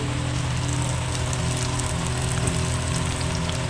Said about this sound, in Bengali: বাইরে না বেশ সুন্দর বৃষ্টিও পড়ছে